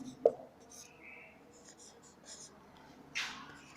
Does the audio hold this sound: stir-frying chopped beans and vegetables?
no